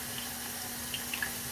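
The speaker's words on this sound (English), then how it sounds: "Sorry for the water noise, water running." Water runs steadily from a kitchen tap into a sink during cooking, a constant close hiss with a few faint splashes and no talking.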